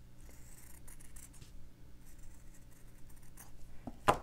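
Scissors snipping through fabric to cut out a face shape for a stitched fabric character, a quiet, close series of soft irregular cuts and rustles ending in one sharper snip.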